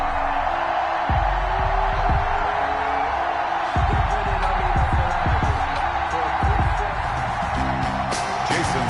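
A packed stadium crowd at a Seattle Seahawks versus Green Bay Packers NFL game in an EA Sports football video game, a loud continuous roar of cheering under an announcer's commentary, with scattered thumps and on-field sounds throughout.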